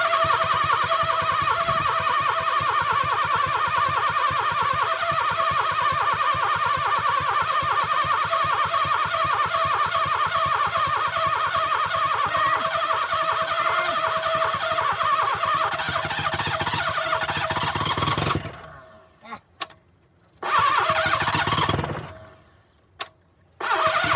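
A 1972 Plymouth Cricket engine cranks continuously for about eighteen seconds with a whirring starter and rapid rhythmic chugging, then stops, followed by two more brief cranking bursts, loud and close with no talk.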